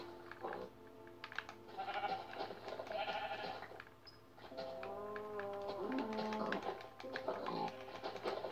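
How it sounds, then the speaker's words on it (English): Sheep in the video game Minecraft bleat repeatedly, several wavering calls over a quiet game background, with no talk. "Is that a sheep? Yes."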